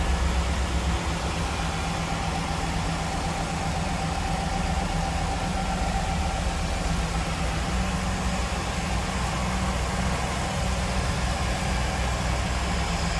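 A 1997 Pontiac Firebird Formula engine idling, a steady close low rumble with even mechanical hum that holds unchanged throughout, no talk.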